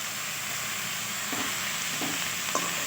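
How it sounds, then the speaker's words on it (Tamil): Ripe tomatoes fry in a pan for drumstick thokku with a soft continuous sizzle. Three brief scraping stirs sound close by, and no one speaks. "ஒன்று சேர நல்லா விரசி கொடுத்துக்கலாம்"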